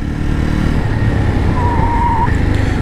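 A Jawa Special Edition motorcycle is ridden loudly and close during a rear brake test, its engine droning steadily, with a rising tonal squeal near the end as the bike slows.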